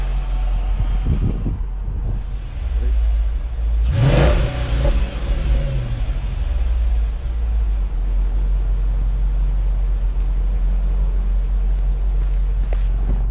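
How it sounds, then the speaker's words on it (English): A 2009 Dodge Charger SRT8 Super Bee with an aftermarket exhaust idles on a cold morning with a steady, loud low rumble, broken by one brief rev around the middle. "it sounds good, but I want it to be a little bit louder. I want that rumble"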